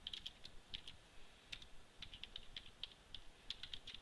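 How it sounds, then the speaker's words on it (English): Someone types on a computer keyboard with one hand, producing quiet, irregular clicks and taps in uneven clusters, faint and close, with no talking. "Sorry, typing with one hand here."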